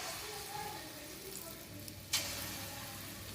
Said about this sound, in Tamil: நல்லா டீப் ஃப்ரை பண்ணி எடுத்துருங்க